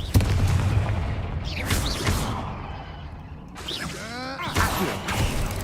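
A Confringo blast spell in Hogwarts Legacy bursts with booming explosive hits and whooshing magical swirls, rising and falling in loud surges amid dense game effects.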